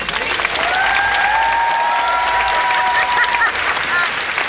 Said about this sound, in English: I'd like everyone to give a round of applause to all the amazing cosplayers.